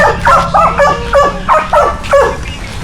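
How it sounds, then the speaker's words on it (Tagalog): A dog barks in a quick series of yips and barks, about half a dozen in under three seconds, close by and fairly loud, at a family's home in the Philippines. "Baka lumabas yung aso."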